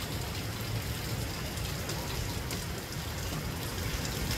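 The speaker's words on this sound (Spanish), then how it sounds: "Miren qué bonito se mira ahí el agua caer." Steady rain falls in Santa Ana, a dense, even hiss of drops on surfaces that holds at a constant level throughout, with no voices.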